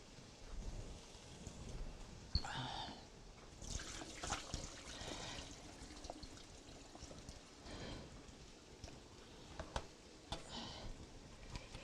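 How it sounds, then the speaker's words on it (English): Thinly sliced unpeeled apples draining in a kitchen, with water trickling and dripping in small irregular splashes, close and fairly quiet, no voices. "Maybe I will drain some of them right behind me."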